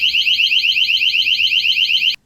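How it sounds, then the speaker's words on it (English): A bathroom fall-prevention alert that sounds when someone steps out of the shower emits a loud, rapid run of high electronic beeps, steady and alone for about two seconds, then cuts off abruptly. "if you have this alert that what sends out a loud beeping sound when you're getting out"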